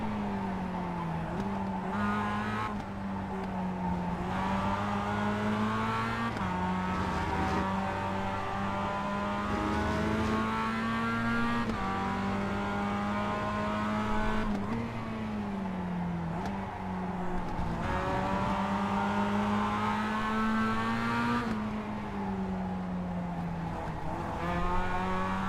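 A Mazda MX-5 Cup race car in iRacing at Okayama, its engine droning steadily with rising and falling revs through gear changes and corners, a close continuous tone with occasional tire squeal and no talking.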